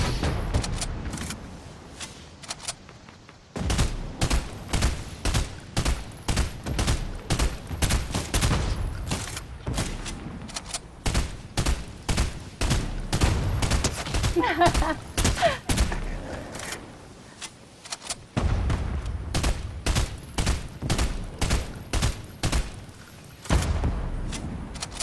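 Rapid bursts of Fortnite video game gunfire ring out almost continuously, loud repeated shots in quick volleys with short pauses, a brief lull near the start and another around eighteen seconds.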